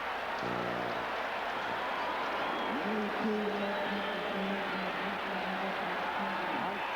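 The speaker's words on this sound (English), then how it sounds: "and the crowd is going crazy" A football stadium crowd at a 1982 NFL game between the Rams and the 49ers roars steadily and loudly throughout, a dense wash of cheering with a commentator talking over it.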